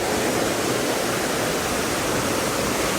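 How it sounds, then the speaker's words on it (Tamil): Jalapali Theertham waterfall at Tirumala, running heavy with water, gives a steady, loud broadband roar of cascading water that stays constant and close throughout, with no voices. "ஃபால்ஸில் தண்ணி நிறைய இருக்குது, செம்மையாக இருக்குது ஃப்ரெண்ட்ஸ்"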